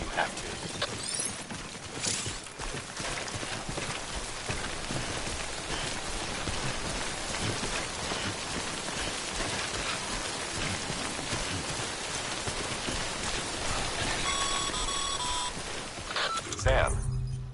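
Timefall rain in the video game Death Stranding, a continuous loud hiss of rain pattering on surfaces that fills the whole stretch, with faint beeping tones near the end before it cuts off.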